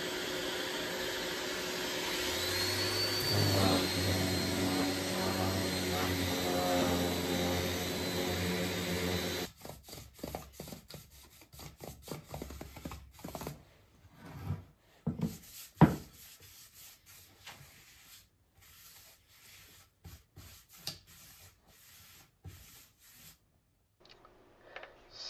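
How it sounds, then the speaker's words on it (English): Wooden workshop shelves sanded down, starting with about nine seconds of a steady loud power-sander whine, then broken, irregular rubbing and scraping strokes at close range with pauses between them. "I will now sand these down and give them a coat of finish."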